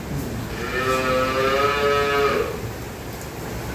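A single long, loud moo from a dairy cow close by on a farm, lasting about two seconds, over steady low background noise.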